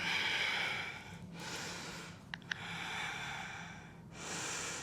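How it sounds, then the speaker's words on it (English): Slow, deep breathing in a yoga squat during a vinyasa flow, long audible inhales and exhales through the nose, close and soft, with a couple of tiny clicks between breaths. "Breathe here."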